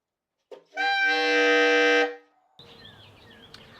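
A saxophone sounds one sustained, bright, piercing altissimo note, played with middle E fingering plus the low C key. The note lasts about a second and a half and ends abruptly, followed by faint chirpy background noise.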